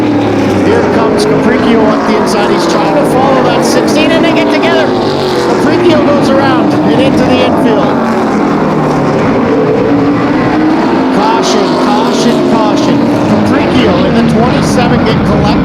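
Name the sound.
Super late model race cars racing at Flamboro Speedway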